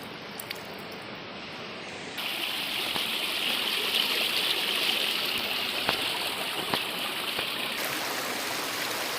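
Water flows at Maithon Dam, a loud, steady rushing stream that fills the whole stretch, swelling slightly after a couple of seconds, with a few faint clicks and no talking.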